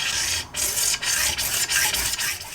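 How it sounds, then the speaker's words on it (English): A hand saw rasps through bike fork bushings in a steady series of rough back-and-forth strokes, close and fairly loud, with no talking. "Where's my saw?"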